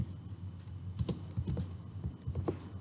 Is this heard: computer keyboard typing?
yes